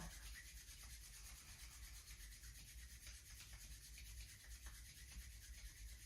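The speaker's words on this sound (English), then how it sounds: "bring our hands together, one more rub" Palms rub together during a gentle warming exercise, producing a soft continuous brushing friction, close and very quiet, with no talking.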